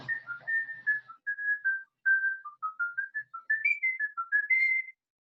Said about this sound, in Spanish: Ese es el silbido del asesino.